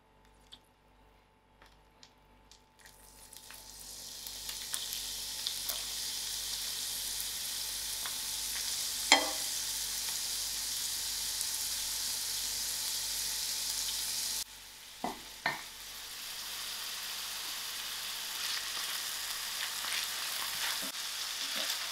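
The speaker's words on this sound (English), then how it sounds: "To my pan, I'm going to add my onions, and we don't need additional oil." Onions sizzle in a dry pan with no added oil, a steady frying hiss that builds after a quiet start and runs alone for a long stretch, broken by a few sharp clicks and scrapes as the pan is stirred.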